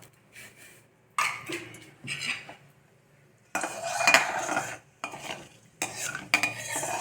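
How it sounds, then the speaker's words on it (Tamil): Mustard seeds hit hot sesame oil in a pan for tomato thokku, giving irregular loud bursts of crackling splutter and sizzle separated by near-silent gaps, with a few utensil clinks. "கொஞ்சம் கடுகு போட்டுக்கலாம்"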